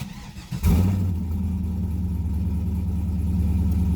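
LS1/LS6 V8 car engine with the exhaust cutout open, firing up suddenly after a brief quiet moment into a loud, deep, lumpy idle that rumbles steadily close by with no talking.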